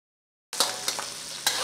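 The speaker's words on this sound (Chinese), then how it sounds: "花椒下锅，油卷下锅，羊油油卷哈，" Sichuan peppercorns and rolled mutton fat hit a hot wok for a lamb-rib dipping sauce; after a half-second of silence a loud, steady sizzle erupts, broken by a few sharp stirring scrapes, with no talking.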